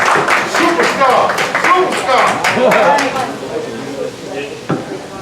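Crowd clapping at an outdoor Peace Over Violence rally in Dayton, Ohio, a busy patter of hands mixed with cheering voices and talk, steady for several seconds before thinning toward the end.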